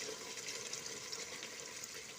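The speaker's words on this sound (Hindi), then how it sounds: "3 गिलास हम इसमें पानी के डाल दिए।" Steady rushing stream of water pouring into a pot of chicken and tinda curry, continuous and fairly close, with a bright splashing hiss throughout.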